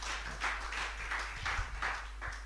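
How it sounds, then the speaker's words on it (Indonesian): Audience applause at a church theology lecture, a soft, steady patter of many hands clapping in bursts, moderately distant and fairly faint throughout. "Kita beri tepuk tangan dulu."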